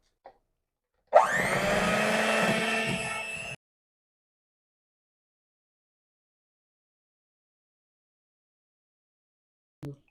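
An electric mixer beats cookie batter mixed with flour for chocolate chip cookies, giving a loud, steady whirring for about two and a half seconds before stopping into silence.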